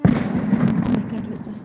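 Fireworks bursting nearby produce a deep, rumbling boom at the start that rolls on with crackling pops, while voices are heard alongside.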